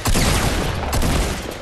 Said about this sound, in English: Hey, who's shooting?